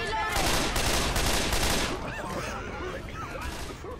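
Pipe bomb detonation and dense automatic gunfire in the co-op zombie shooter Left 4 Dead 2, a loud continuous barrage of rattling shots and blasts that eases slightly after two seconds, with chaotic game noise throughout.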